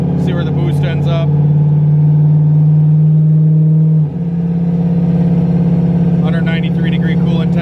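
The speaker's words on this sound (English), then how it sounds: "We're going to do a little pull and kind of see where our fueling is, see where the boost ends up" A turbocharged LS-swapped Fox-body engine holds a loud, steady mid-pitched drone on a dyno with Holley EFI, its pitch shifting briefly midway, while a person talks over it near the start and end.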